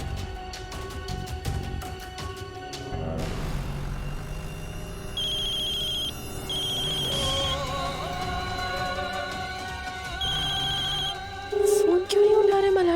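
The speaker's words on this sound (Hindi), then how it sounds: "फोन क्यों नहीं उठा रहे मल्हार जी?" A telephone rings repeatedly through a dramatic TV scene, bursts of electronic trilling in regular on-off cycles over music and background sound, close and clear.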